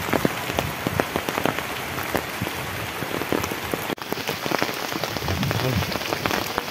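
Rain falls steadily on surfaces outdoors in Balagarh, a close, moderately loud patter of individual drops over a continuous hiss.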